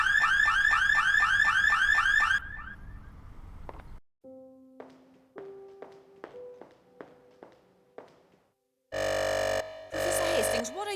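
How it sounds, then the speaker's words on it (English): A video game car alarm blares in repeating warbling bursts, followed by a sequence of separate electronic beeps and tones, then a loud buzzing alarm-like blast near the end. "I must be off to my car. My alarm just went off."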